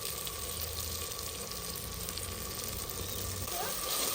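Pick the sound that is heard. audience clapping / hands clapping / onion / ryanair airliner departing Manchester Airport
onion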